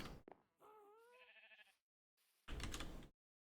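Minecraft sheep bleating in the video game, two or three quavering bleats close up, with a short burst of another game sound after a brief pause.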